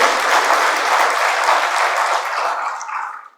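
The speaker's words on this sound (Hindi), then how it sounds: "प्लीज तालियां बजाकर स्वागत करिए।" An audience at a road-safety motorcycle rally launch in Indore claps in welcome, producing a dense, loud burst of applause that holds steady and then tapers off.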